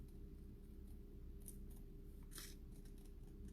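Scissors snipping paper into a small paw shape for a kids' bunny sign craft, a few faint quiet cuts over a low steady background hum.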